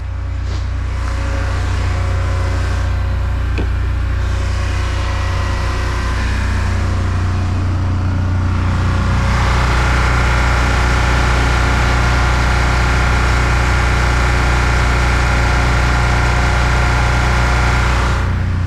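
A steady generator engine drones continuously at a constant pitch, loud and close, with a slight shift in tone partway through and no voices.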